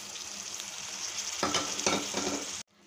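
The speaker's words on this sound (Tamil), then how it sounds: "நல்லா கிளறி விட்டுக்கோங்க அந்த தக்காளியை." Tomatoes being stirred and fried in a pan for thakkali thokku, giving a steady close sizzle with several scraping stirs in the middle, which then cuts off abruptly near the end.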